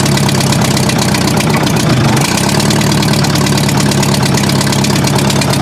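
A Dodge truck engine idles loudly and steadily as it warms up before snow plowing, a constant close rumble with a slight shift in tone partway through, and no speech.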